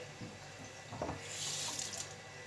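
A tap runs into a kitchen sink while a plate is rinsed under it, a close, steady hiss of flowing water with a few soft knocks, no talking.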